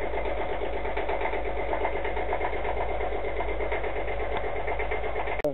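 A boat engine running in its engine bay after two weeks unstarted, a steady close rumbling idle with even mechanical pulsing throughout, cutting off abruptly at the end.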